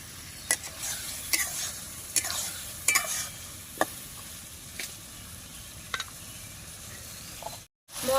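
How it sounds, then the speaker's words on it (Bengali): Peas and mushrooms stirred into masala frying in a pan, a steady sizzle broken by sharp scraping clicks of the spoon about once a second, close and alone. "মটরশুঁটিটা দিয়ে দিচ্ছি মশলা কষানোর উপরে ভালোভাবে নাড়িয়ে নেবো"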